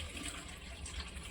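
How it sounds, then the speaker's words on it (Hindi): Water pours into a pot of half-boiled chickpeas seasoned with salt and turmeric, a short, faint, continuous splashing gush. "थोड़ा पानी डाल दूँ।"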